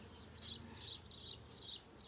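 Honey bees in a package hive during an eight-week inspection, a faint, close buzzing hum with gentle rising and falling pulses.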